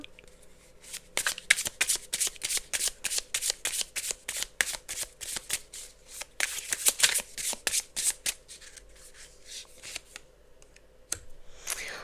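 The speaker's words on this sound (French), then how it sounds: "je vais juste tirer 2 autres cartes" Tarot cards are shuffled and drawn by hand in quick riffling flurries of crisp slaps and flicks. The sound is close, with a faint steady hum beneath and a brief pause near the end.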